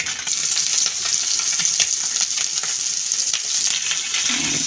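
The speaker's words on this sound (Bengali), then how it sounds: "এভাবে সবগুলো ভাজে নিব।" Chapila fish fry in hot oil in a pan, a loud, steady, close crackling sizzle with stirring and spatula scrapes running throughout, with no voices.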